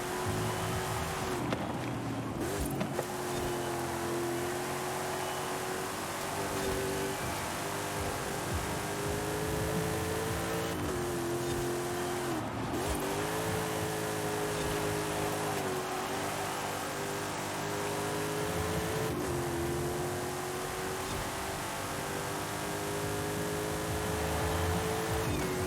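A truck driving in the racing video game Forza Horizon 5, its engine droning steadily for the whole stretch, with a sustained tone that dips and climbs again as it shifts gears every few seconds, alone without talk.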